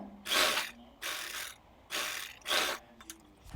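A hand-turned sewing machine stitches a kurti neckline in four clicking, whirring mechanical bursts with short pauses between them, close and clear.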